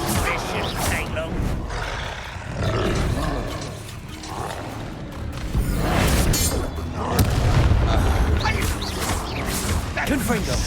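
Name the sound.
Bombarda blasting spell exploding, Hogwarts Legacy video game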